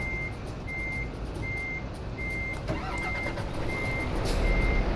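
A MAN TGX 2010 truck backs up while hauling logs in Euro Truck Simulator 2, its steady reversing beeper pulsing at an even rhythm over a low idling engine, fairly quiet with no talk.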